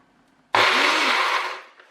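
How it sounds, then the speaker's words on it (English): A blender starts abruptly and whirs loudly and steadily while blending roasted red pepper pesto of olive oil and sea salt, then winds down near the end. "Put our lid on, and now we're going to blend"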